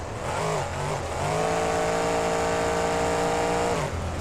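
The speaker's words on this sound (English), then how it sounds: "Seems like the shifting from first into second gear is a little rough as we do hear the engine rev" A monster truck engine in the BeamNG driving game revs hard and climbs steadily in pitch through a rough first-to-second gear shift, loud and continuous with no talk.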